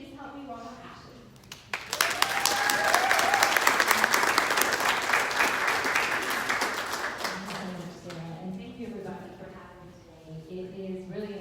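An audience at a human trafficking summit breaks into applause to welcome a speaker, with the clapping swelling quickly, holding as a dense wash for several seconds and then fading as speech resumes.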